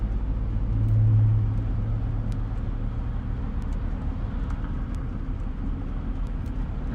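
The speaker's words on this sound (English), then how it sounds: "And traffic is heavy." Heavy road traffic during an approaching severe thunderstorm with rain, a continuous low rumble of engines and tyres close by, swelling briefly as one vehicle passes early on.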